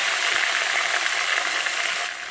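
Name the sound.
onion and tomato frying in a pan for chicken curry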